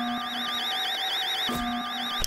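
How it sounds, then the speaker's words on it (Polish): A wavering electronic alarm from the Henry Stickmin museum heist game rises and falls steadily in pitch, loud and continuous, with brief soft knocks partway through and no talking. "Okej, jest alarm."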